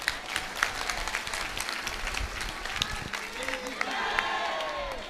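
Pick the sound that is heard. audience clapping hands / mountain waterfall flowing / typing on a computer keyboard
audience clapping hands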